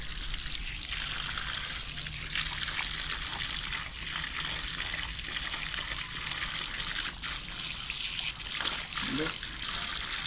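Water runs steadily from a newly installed pressure tank line after a ball valve is opened, a continuous hissing trickle heard close and fairly loud throughout.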